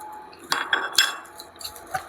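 Boiled rice being stirred into chicken powder in a cooking pan, with a handful of sharp metallic scrapes and clinks from the utensil against the pan, close and fairly quiet.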